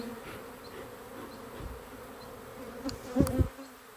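Honey bees in a small seven-frame backyard hive hum steadily while being smoked, a faint close buzz with a louder burst of wingbeats near the end, and no talk.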